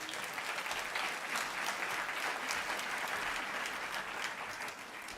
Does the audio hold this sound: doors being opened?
no